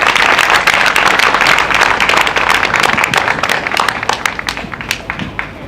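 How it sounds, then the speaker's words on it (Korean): Warm, steady applause from a crowd at an outdoor prayer rally welcomes a speaker to the stage, loud and sustained at first, then thinning into scattered claps toward the end. "우리 힘찬 격려의 박수로 모시도록 하겠습니다"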